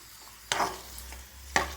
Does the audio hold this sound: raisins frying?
yes